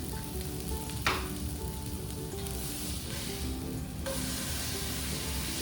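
An elk burger sears in a cast iron pan with a loud, continuous sizzle and crackle up close, marked by a brief sharp spit.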